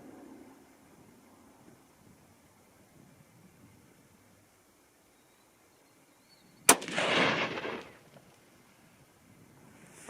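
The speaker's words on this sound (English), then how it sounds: "we're going to go ahead and finish up with this third shot" A single sharp, loud Remington 700 BDL rifle shot in .243 Win with a hot barrel, fired outdoors, cracks out of a quiet background and then rolls away in a rumbling echo lasting about a second.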